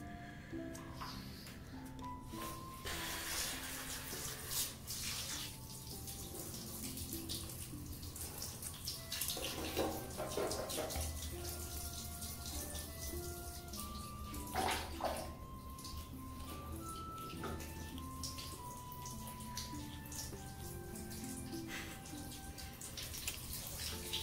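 A shower sprays water steadily over a pet standing in it, a soft continuous hiss lasting throughout, fairly quiet, with faint tonal music in the background.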